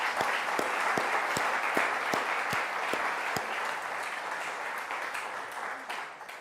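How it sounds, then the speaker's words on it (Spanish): A church congregation applauds steadily for several seconds, dense clapping with a few sharper individual claps standing out early, fading slightly toward the end. "Denle un aplauso a Dios,"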